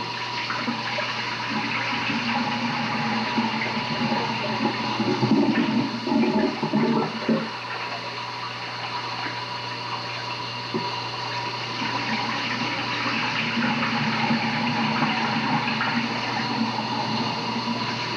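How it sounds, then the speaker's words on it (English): Tap water runs steadily into a bowl of soaking rice as it is washed for Lebanese chicken and rice, a continuous close splashing stream with brief sloshing from handling partway through. "you want to be sure and wash it real good, get all that starch out of it"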